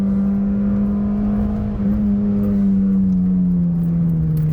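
An engine-swapped Ford car driven hard on a B-road, its engine droning loud and steady close up with a strong low hum that slowly sags in pitch, no voices.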